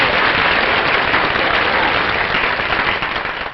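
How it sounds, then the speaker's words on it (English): A studio audience at a 1956 television show breaks into loud, sustained applause, a dense wash of clapping that fills the whole stretch and fades slightly at the end. "A little applause."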